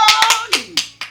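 About six quick, sharp hand claps sound close and loud within a second, mixed with a voice.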